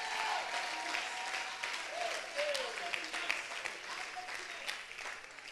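A church congregation claps during a sermon, with steady, moderately distant applause and crowd noise mixed with voices and a few cheers.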